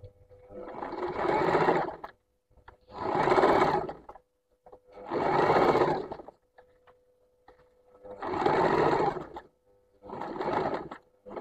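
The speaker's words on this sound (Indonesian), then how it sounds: "Kemudian lanjut menjahitnya." A sewing machine stitches a zipper into trousers or a skirt in five separate bursts, each about two seconds long with short pauses between them, and the sound is close and clear.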